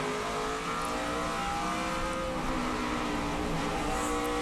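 NASCAR Nationwide Series stock cars roar around the track in a dense, unbroken wall of engine noise, several cars blending together with slight rises and falls as they jostle through traffic.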